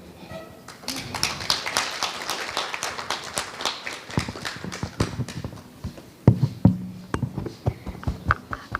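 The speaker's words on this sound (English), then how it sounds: "A better round of applause for Mary" An audience at a tech women's summit applauds a speaker with dense, close clapping that runs throughout, with a few voices mixed in.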